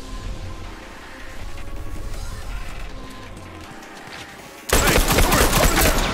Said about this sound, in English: Oh, that's our bomb.